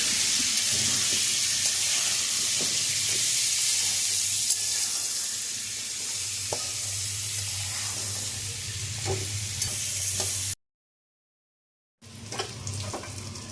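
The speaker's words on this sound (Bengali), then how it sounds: "লবণ হলুদ দিয়ে এবার আলুগুলো ভালো করে ভাজতে হবে।" Potatoes fry in a pan with turmeric and salt, giving a loud, continuous close sizzle with occasional stirring scrapes. The sound cuts out briefly near the end, then returns.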